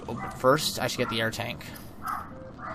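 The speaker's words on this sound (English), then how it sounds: "You can probably hear some barking right now." A young pet dog yips and barks inside a house, short high-pitched barks mixed in with someone talking close to the microphone.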